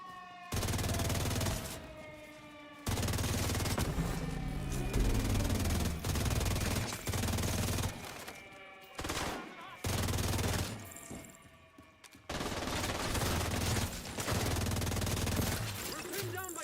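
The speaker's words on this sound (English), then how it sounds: "We're pinned down by turrets at the main gate." Automated turrets firing in The Division 2, sustained bursts of rapid gunfire in long stretches broken by short pauses, loud and close, with a siren-like tone and game effects underneath.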